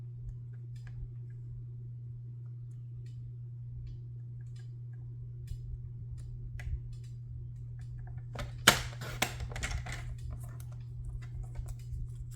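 A paper trimmer slices through card in a short burst of scraping clicks late in the clip, over a steady low hum.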